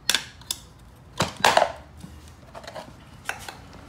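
Tire spoons lever a tire bead onto a pit bike rim, giving a few sharp, close knocks and snaps with quieter scraping between them.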